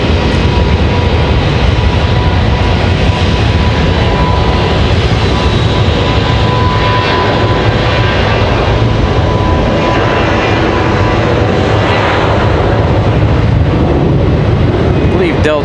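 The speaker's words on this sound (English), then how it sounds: "Now we have Delta in this 737 at 900 ready to roll." A Delta Boeing 737-900 rolls for takeoff, its jet engines producing a loud, steady, continuous roar that holds without letup throughout.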